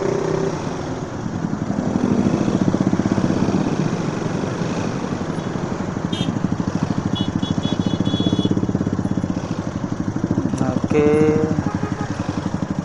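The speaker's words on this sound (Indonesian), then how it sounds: "masih ada aja motor lewat trotoar." Motorcycle riding along a sidewalk on a city street, its engine droning steadily and fairly loud for the whole stretch, with a rider talking over it and brief higher clanks near the end.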